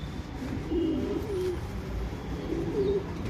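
A male rakdar pigeon of the surmir type, a pedigree pair bird, coos in low repeated phrases, two close, clear coo sequences over a steady room background with no talk.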